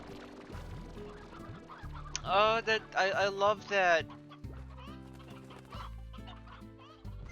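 Chickens, including an older hen, clucking close by in a rapid cackling run, with someone speaking softly before it and lower clucks and bird noises continuing around her talk afterward.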